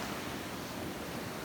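Ocean surf rolls steadily onto a shell-strewn beach as the tide comes in, a dense continuous wash of breaking water with light wind buffeting the microphone.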